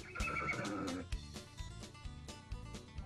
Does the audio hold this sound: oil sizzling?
no